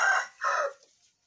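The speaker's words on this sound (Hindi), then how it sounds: "ये मिस्री मुर्गी है" An Egyptian hen gives two short, close clucking calls, the second one trailing off, with no talking.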